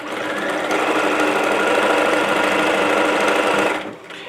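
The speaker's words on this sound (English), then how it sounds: "I've got to put this back under the sewing machine and" A sewing machine runs steadily for nearly four seconds, stitching a shirt back together to fix a cut seam, with a continuous fast whirring hum that stops abruptly near the end; nobody speaks.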